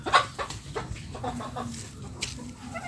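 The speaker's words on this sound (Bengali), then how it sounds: "মুরগি দিয়ে হাল ছাড়ছে মুরগি দেখেন কী করছে" Chickens cluck close by in short, repeated bursts while scratching farm soil for earthworms, with scattered scratchy rustles between the calls.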